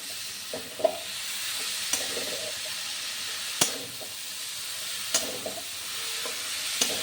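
Boiled banana flowers stirred into spices frying in a pan for mochar ghonto, a constant hissing sizzle broken by sharp spatula knocks against the pan every second or two, close and clear with no talking.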